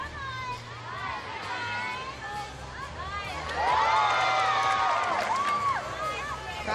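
A gymnastics arena crowd at an Alabama at UCLA meet cheers and shouts for an uneven bars release, the roar swelling midway and holding loud, with whistles and overlapping voices throughout.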